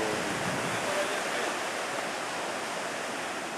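Steady, continuous surf of the Indian Ocean on a Sri Lankan shore, a broad even hiss of breaking waves heard from a distance with no distinct individual crashes.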